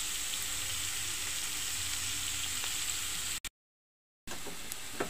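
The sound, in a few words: snake gourd frying in a pan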